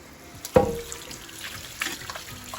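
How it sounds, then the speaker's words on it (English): Tap water runs over a cast iron skillet being rinsed, starting with a sudden gush and then splashing and trickling on for a couple of seconds, close and clear. "now you just want to rinse that off."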